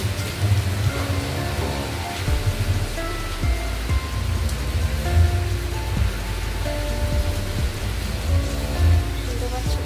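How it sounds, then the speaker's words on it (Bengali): Heavy storm rain pours down steadily and loudly close by, a dense unbroken hiss with a faint low rumble of thunder underneath. "প্রচুর পরিমাণে এখনও ঝড় বৃষ্টি হচ্ছে।"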